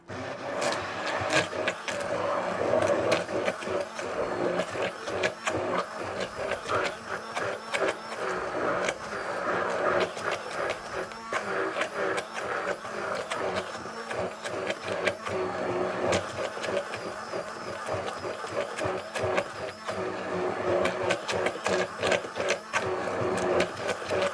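A blender purees beans with cumin and olive oil, a dense continuous whirring and grinding that runs steadily throughout, close and loud with no talk over it.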